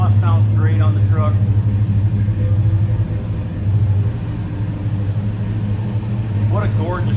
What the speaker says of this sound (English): Exhaust sounds great on the truck